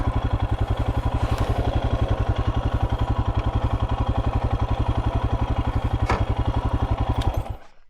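A Royal Enfield Himalayan motorcycle idles close by on a hot roadside, its single-cylinder engine thumping in a fast, even rhythm before cutting off at the end.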